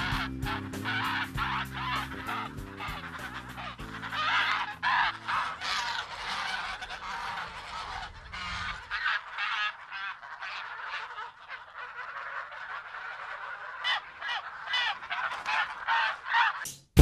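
Free-range geese honking, a loud flock calling in rapid overlapping bursts close by, with a brief lull before the honks pick up again.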